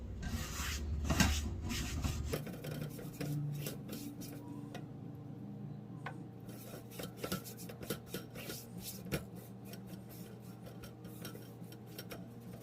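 Wax is rubbed over the surfaces of a restored cast iron skillet, giving a soft, steady scraping and rubbing texture with scattered small clicks and taps, fairly quiet throughout.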